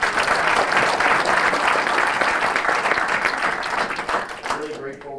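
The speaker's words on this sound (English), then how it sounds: "Have a round of applause." A conference audience gives a panel discussion a round of applause, a dense crowd of clapping hands that holds steady and then tapers off near the end.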